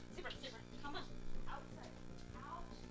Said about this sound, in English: Dogs decided they needed to be in here with us for some reason